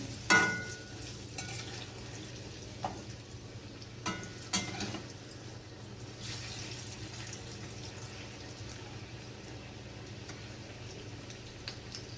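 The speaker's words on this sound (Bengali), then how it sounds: "কোপ্তাগুলো এক পিট উল্টে দিচ্ছি এক পিট ভাজা হয়ে গেছে উল্টে দিলাম" Green banana koftas frying in oil as they are turned over, a faint steady sizzle with a few clicks and knocks from the utensil, close and without talk.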